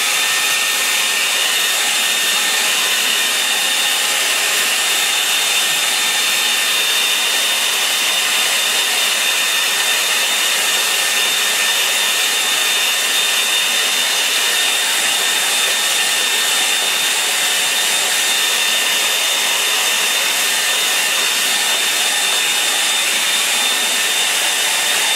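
A hair dryer blowing on a watercolour painting gives a loud, constant, close-up whoosh and motor whine. It runs unbroken the whole time and nobody talks.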